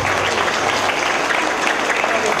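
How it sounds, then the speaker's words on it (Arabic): Full, continuous applause from an audience at a Day of Knowledge school ceremony in Oran, Algeria, a thick wash of clapping at close range that stays loud and even throughout. "تصفيق عليك"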